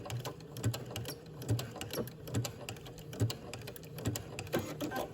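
A sewing machine back-stitches fabric for a maxi dress in quick, evenly spaced mechanical clicks and thumps, close and steady, with no one talking.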